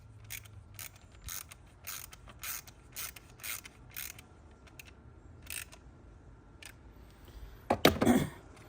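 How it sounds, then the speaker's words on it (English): Screws being tightened to secure trim on a custom steering wheel in a Tesla Model Y/3, a series of quiet, close ratcheting clicks in short bursts, ending with a louder rattle. "we are going to be putting this screws right here, and then we're gonna secure this trim"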